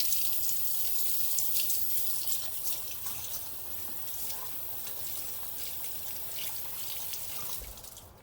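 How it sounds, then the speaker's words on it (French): Tap water runs steadily over courgettes being washed in a kitchen, a soft continuous splashing hiss at moderate distance with no talking. "Il nous faut les courgettes qu'on lave."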